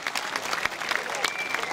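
Audience applause at the Banjo Jamboree 2018 festival in Čáslav, a lively mass of clapping with distinct sharp individual claps popping out and a faint whistle, fairly close and continuous.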